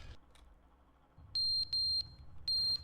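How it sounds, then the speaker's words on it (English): Three loud electronic beeps from an alarm in The Stanley Parable video game, each a sharp high-pitched tone, sounding close and alone over a low background hum after a quieter opening stretch. "that beeping, it's annoying. Is that the fire alarm or something?"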